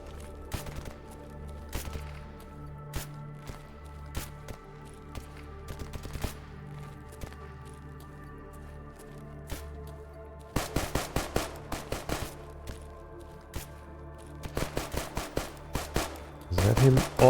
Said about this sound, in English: Is that him already shooting at me?